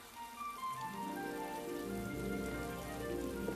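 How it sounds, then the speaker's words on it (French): Steady rain falls and patters on surfaces outdoors, a continuous wash of drops close by with faint musical tones underneath and no voices. "La pluie, encore la pluie."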